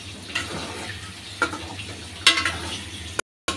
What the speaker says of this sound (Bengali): আমি আলুগুলো লবণ দিয়ে ভেজে নিতেছি